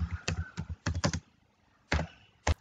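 Computer keyboard typing in short bursts of crisp key clicks with pauses between, close and fairly quiet, while code is written.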